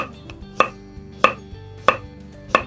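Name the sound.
chopping vegetables on a cutting board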